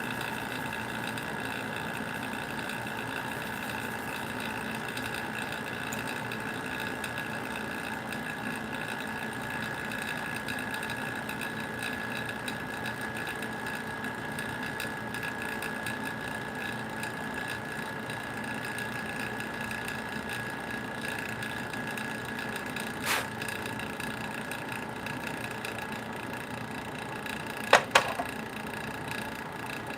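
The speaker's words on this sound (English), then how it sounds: "Got the vac chamber going." A vacuum chamber runs steadily in a small workshop making handmade plastic swimbaits, giving a constant mechanical hum and whine throughout, with a couple of brief sharp clicks near the end and no talking.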